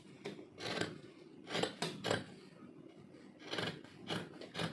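Scissors snip through fabric while cutting out the front neckline of a top, giving a series of soft, rasping cuts in uneven bursts, close and fairly quiet.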